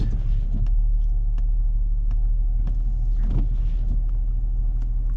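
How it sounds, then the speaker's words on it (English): A car engine hums at a low, steady idle, with a few faint clicks and knocks from inside the vehicle. "start the car up. Car started."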